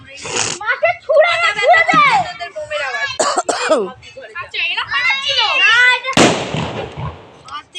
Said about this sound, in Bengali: তো এখন বম ফাটাচ্ছে।